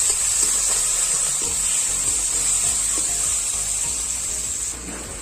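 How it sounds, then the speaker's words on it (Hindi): Onion and tomato sizzle steadily in a hot pan for an Indian fish curry, a continuous close frying hiss with faint stirring scrapes and no talk. "अब डाल देंगे हम टमाटर इसमें। टमाटर को भी हम अच्छे से भून लेंगे।"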